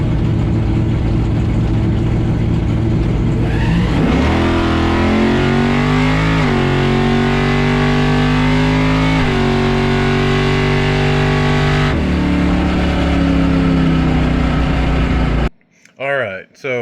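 A 1973 Challenger drag car revs hard through a run, loud engine roar with rising and falling pitch as it shifts through gears, cutting off abruptly near the end.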